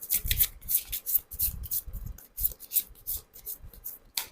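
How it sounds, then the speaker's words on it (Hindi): Tarot cards being shuffled by hand, a quick run of crisp riffling bursts and papery rubs in irregular rhythm, close and fairly quiet with no talk. "अब हो गया शफल।"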